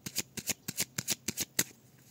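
Tarot deck being cut and shuffled by hand, a quick run of about nine crisp riffling card bursts in a steady rhythm, close and clear with no talk.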